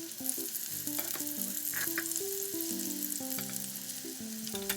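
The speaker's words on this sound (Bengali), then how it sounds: "আবারও ভালো করে নেড়ে চেড়ে মিশিয়ে নিচ্ছি।" Spiced sauce with yogurt is stirred in a pan while cooking for a koral fish curry, a steady close sizzle with soft scraping stir strokes, and music plays throughout.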